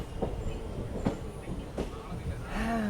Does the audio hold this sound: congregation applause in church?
no